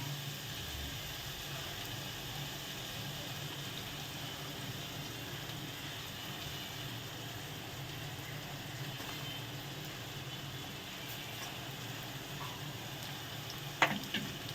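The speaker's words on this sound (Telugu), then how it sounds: "ఇప్పుడు టమాటాలు వేసుకుందాం సరిపడగా" Tomatoes hit the pan in a mutton curry, giving a steady, even sizzle of frying that holds throughout, with a brief utensil clatter near the end and no talking.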